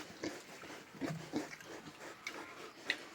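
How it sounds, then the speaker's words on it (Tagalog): Pigs on a farm give several short grunts and snorts at close range, scattered irregularly across a quiet background with a few faint ticks. "Ito guys, yung mga baboy na to guys."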